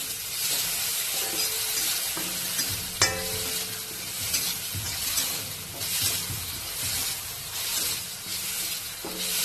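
Onion frying in a kadhai with a little salt, stirred steadily so a continuous close sizzle runs under repeated scraping and clinking of the spoon against the pan, with occasional louder knocks.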